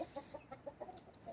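Several chickens cluck in a short, steady run of quick repeated calls at close range, with no talk over them.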